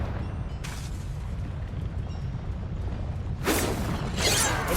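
Confringo spell blast in the video game Hogwarts Legacy bursts loudly near the end after a quieter stretch of rumbling game ambience, a sharp explosive whoosh followed by a second booming burst.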